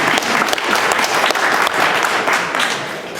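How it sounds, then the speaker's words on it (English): An audience at a wargaming panel gives dense, steady applause, loud and close, fading slightly at the end. "So a big round of applause for Scott there"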